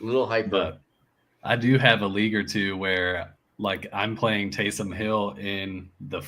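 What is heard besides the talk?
No everyday noise stands out behind the speech.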